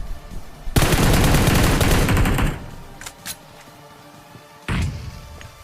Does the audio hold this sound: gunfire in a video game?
yes